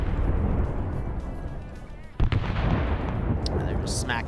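Artillery fire in a Vietnam-era convoy operation in a military video game: a rumbling barrage under steady noise, a sharp loud blast at about two seconds, then more distant booms and crackle.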